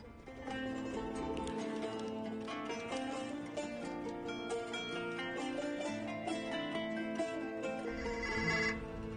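A telephone rings with a melodic ringtone in a home, a loud continuous sequence of bright electronic tones repeating for several seconds, close and alone without talk.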